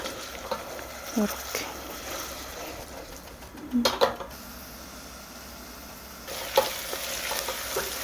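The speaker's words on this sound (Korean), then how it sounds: "올리브 오일을 한 큰술 내내 타니까 너무 불 세지 않게 양파도 가볍게 이렇게 볶아줄게요" Onions and garlic stir-fry in olive oil over moderate heat in a pan ahead of meatballs, a steady soft sizzle with a few sharp stirring clinks and scrapes, while a voice talks briefly in the kitchen.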